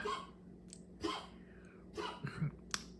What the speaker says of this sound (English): My dog is coughing in the background.